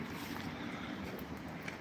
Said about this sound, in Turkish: kamerada zaten rüzgarın sesi duyuluyordur.